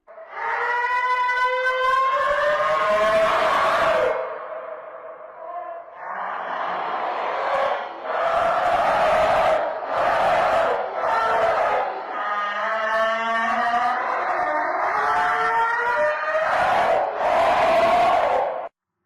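The Cave Dweller creature from a Minecraft horror mod lets out long, wailing, siren-like screeches in two drawn-out bursts, loud and close, with rising and falling howls and a rough roaring undertone, no speech.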